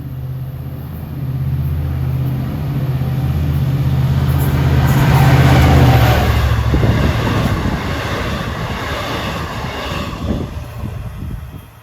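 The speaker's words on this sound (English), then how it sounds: "Coming east at 8:05 is train 608 from Jamaica to Port Jefferson." An LIRR commuter train bound from Jamaica to Port Jefferson runs past New Hyde Park station, its loud rumble and clattering wheels building to a peak and then slowly fading as it moves away.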